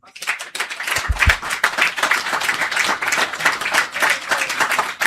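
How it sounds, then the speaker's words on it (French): Applause from the audience at a journalism seminar, dense and sustained for about five seconds, with voices mixed into the clapping. "il faut l'acclamer, il faut l'applaudir."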